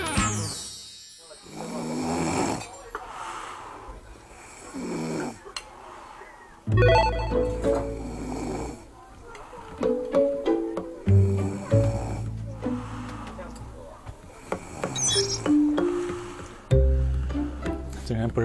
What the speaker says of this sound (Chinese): 晚上打呼噜，把我吵得半死，自己竟然不知道。